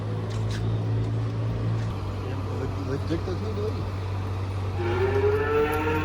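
A large herd of buffaloes moo in low drawn-out calls amid a steady engine-like hum, with people talking nearby.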